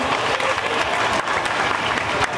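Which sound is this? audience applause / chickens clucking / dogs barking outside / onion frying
audience applause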